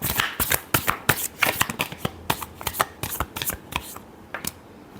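Tarot cards are shuffled by hand in quick crisp riffles and flicks, close up and fairly quiet, with short bursts and small gaps in a busy uneven rhythm.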